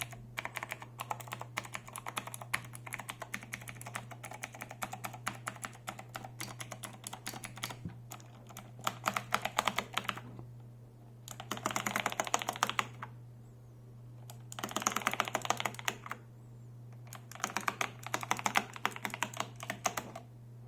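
Rapid typing on an Ajazz AK533 tactile mechanical keyboard clicks away up close in bursts separated by short pauses, each keystroke crisp and tactile over a faint low hum.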